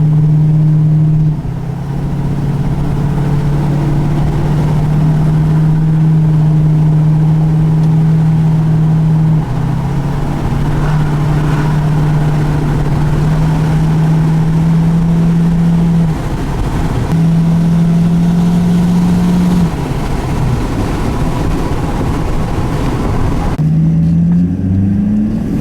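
Ford Powerstroke diesel truck under boost, heard while driving: a steady, droning engine note with shifts in pitch as it pulls and changes gear, loud and continuous, easing off near the end.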